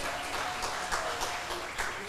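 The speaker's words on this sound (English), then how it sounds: "please give a big round of applause for all the international speakers" Audience applause at an international workshop session for the visiting international speakers, a steady wash of many hands clapping at moderate volume from start to finish, with a few louder bursts.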